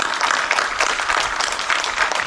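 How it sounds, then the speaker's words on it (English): Dense crowd applause at a Memorial Day parade in Princeton. It is a continuous, fairly loud wash of many hands clapping at once, with no single voice standing out. "Please, a round of applause for Cam."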